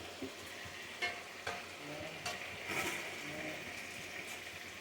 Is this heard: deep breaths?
no